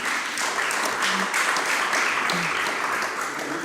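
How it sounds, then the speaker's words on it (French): Steady applause from an audience at a French conference session on hospitals and aging, a continuous wash of clapping at moderate level throughout, with faint voices murmuring underneath. "On vous applaudit"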